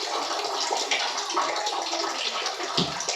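Tap water runs steadily into a container, a dense rushing splash that holds at an even level throughout, with no voices over it.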